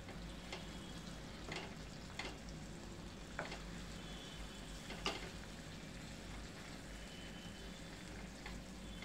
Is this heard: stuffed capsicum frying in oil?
yes